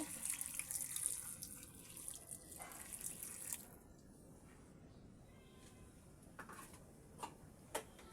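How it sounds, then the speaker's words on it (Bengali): Hot water poured into a pot of beef tripe cooking on the stove, a soft running, splashing pour for a few seconds, then quiet with a few faint clicks and drips. "আমি এখন গরম পানি দিচ্ছি"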